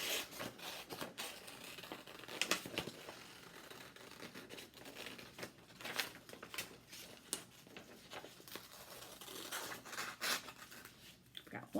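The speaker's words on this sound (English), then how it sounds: "Let me cut out the wings." Scissors cut out paper ladybug wings in a series of crisp snips and rustling paper scrapes, close and fairly quiet, with uneven pauses between cuts.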